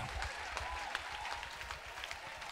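A church congregation claps and cheers in praise of Jesus Christ, steady applause throughout, fairly quiet and distant.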